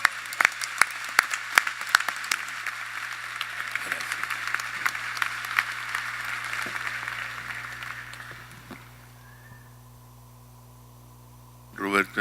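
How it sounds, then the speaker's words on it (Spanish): Loud applause from a congress assembly welcoming a bishop speaker, dense clapping for about eight seconds that then fades to quiet room tone, with a brief burst of noise at the very end. "vamos a recibirlo con un aplauso fuerte en el nombre del Señor"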